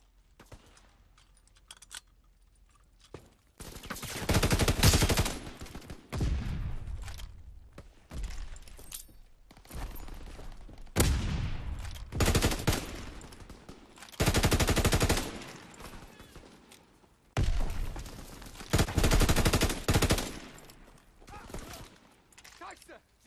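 Bursts of machine-gun fire in Call of Duty WWII, loud clustered volleys separated by short quieter gaps with faint game chatter and ambience between them.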